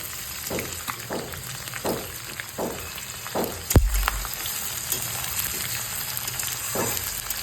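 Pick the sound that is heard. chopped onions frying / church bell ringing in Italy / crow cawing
chopped onions frying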